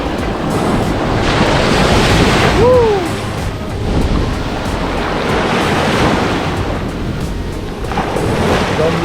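Strong wind buffets the microphone over steady crashing sea waves at a beach on Koh Phi Phi, Thailand, a loud continuous roar with surges of surf, rain falling.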